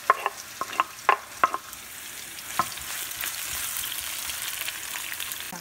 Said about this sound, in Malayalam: ഒരു സവാള അരിഞ്ഞ് വെച്ചത് ഒഴിച്ചിട്ട്